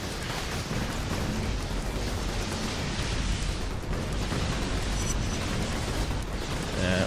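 Grenade explosions in a video game, a continuous roar of blasts and rumbling bursts that stays loud and dense throughout with no speech.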